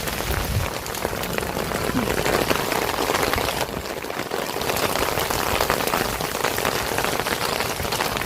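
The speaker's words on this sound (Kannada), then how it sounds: "ಚೆನ್ನಾಗಿ ಮಳೆ ಬರ್ತಾ ಇದೆ." Heavy rain falling steadily on a surface, a dense continuous patter with no pauses.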